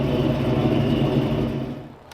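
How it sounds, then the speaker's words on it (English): A Ford Mustang engine fitted with a centrifugal blower supercharger runs at a steady loud roar with a whirring undertone, then fades off toward the end. "you hear that? Centrifugal blower."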